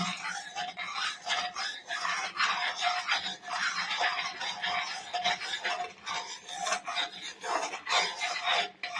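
Kheer being stirred in a pan while it cooks, a spoon scraping and rasping in steady back-and-forth strokes, close and fairly loud with no talk.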